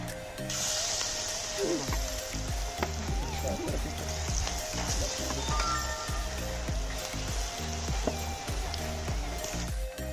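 Cauliflower pieces deep-frying in hot oil for chilli cauliflower give a steady bright hiss and bubbling, heard alongside background music.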